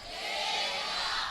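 A Sunday worship congregation answers the pastor together, a loud massed shout of many voices swelling briefly and then holding for about a second.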